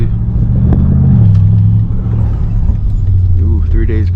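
A BMW M550 car drives along a road with a loud, steady low engine rumble heard from inside the cabin, while faint voices or music play over it.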